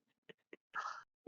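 A single sneeze bursts out after a couple of short, soft sounds, followed quickly by another brief noise; close and fairly quiet.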